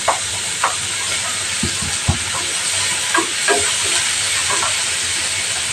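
Tomatoes dropped into a hot frying pan of browned onion and garlic, giving a steady broad sizzle and hiss with scattered crackling pops and a few clunks of the pan.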